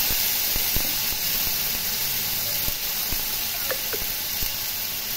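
Cumin, dried and green chillies, coriander, tomato and ginger paste sizzle in hot mustard oil with five-spice seeds, a continuous close hiss marked by small pops and light clicks.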